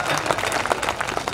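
Audience applause at a Hindi comic poetry recital (hasya kavi sammelan), a dense, steady wash of many hands clapping throughout, fairly close and even in loudness.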